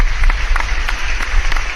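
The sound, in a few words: audience applause for a super chat donor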